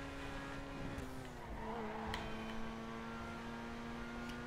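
A supercar in GTA V accelerates hard, its engine holding a steady humming drone that dips briefly mid-way before settling back, close and alone without talk.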